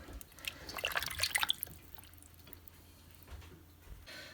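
Water splashing and dripping as raw chicken wings are rinsed and drained in a kitchen, a short cluster of wet trickles and drops early on, then fading to quiet room tone.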